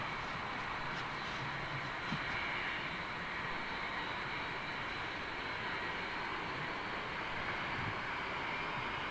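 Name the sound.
airliner jet engines spooling up at Heathrow Airport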